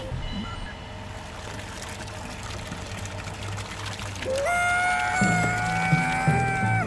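Cartoon sound effect of concrete pouring from a mixer: a wet, gushing pour over a low mechanical rumble, followed by a sustained rising whistle-like tone in the latter half.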